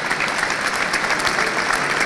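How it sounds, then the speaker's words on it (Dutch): Steady, dense applause from a crowd at a Dutch beer award ceremony, filling the whole stretch at an even level with no voices rising above it. "Geef een applaus."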